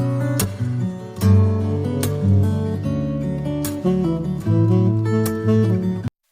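A series of saxophone notes played solo, each started with a soft, smooth "da" tongued attack, moving through a short melodic line at moderate loudness.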